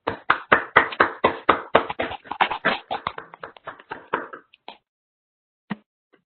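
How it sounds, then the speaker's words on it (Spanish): A small audience at an academic presentation session claps for a doctor who has just finished his talk. The sharp, separate claps come quickly at first, then thin out and fade, and a couple of stray claps follow the silence. "le damos un fuerte aplauso, por favor."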